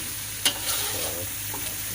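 Pickled bamboo shoots for a spicy curry stir-fry in a hot pan, giving a close, steady sizzle broken by a sharp utensil scrape and soft stirring shuffles.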